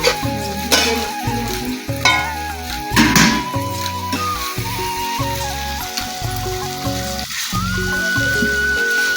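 Chicken curry sizzles in a pan while it is stirred. The steady frying hiss sits under louder music with a clear tune.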